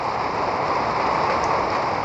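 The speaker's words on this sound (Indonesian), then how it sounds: "Ini lebat sangat ini hujannya." Heavy rain pouring steadily over farmland, a dense continuous hiss with no let-up and no talking.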